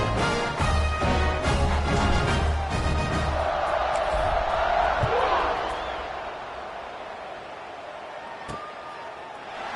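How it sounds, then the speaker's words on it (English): A high school football crowd cheers at a kickoff, a broad roar that swells over the first few seconds and then eases, with a commentator talking over the noise. "this crowd now ready to get behind them"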